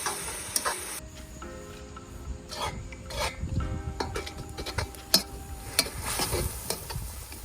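Chopped onions frying in warm olive oil in a pot, a steady rasping sizzle with stirring scrapes and occasional sharp clicks and pops throughout, no voices.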